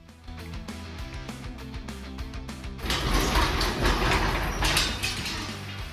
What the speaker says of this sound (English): Right here, I'm undoing all of the body mount bolts, all the bolts that hold the body to the actual frame itself.